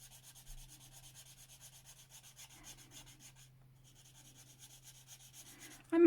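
Chisel tip of an alcohol marker rubbing over paper in soft, steady back-and-forth strokes, quiet and close, with a brief louder scrape at the end.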